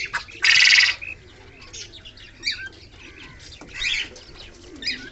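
In a loft of fancy pigeons, a male fantail feeds its young, with a loud burst of wing flapping at the start, then soft cooing and faint chirps from the squabs nearby.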